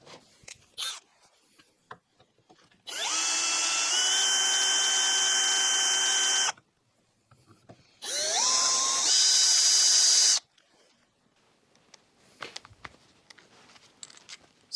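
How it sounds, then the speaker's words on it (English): A screw extractor drills into a stuck throttle body screw, giving two steady high-pitched whining bursts of about four and two seconds, with the pitch shifting partway through the second, separated by quiet and followed by faint handling clatter. "Just try a screw extractor first."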